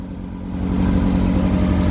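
The engine of a 1968 Riley Kestrel 1300 idles steadily with a low, even hum that firms up slightly after the first half second and then holds smooth, close by and with no talking.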